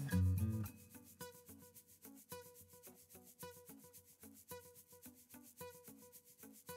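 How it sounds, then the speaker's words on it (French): Knife scraping and cutting a vanilla pod on a board, making soft, regular rubbing strokes in a steady rhythm. The sound is close and quiet with no other sounds. "Je vais venir la couper en deux et gratter la vanille."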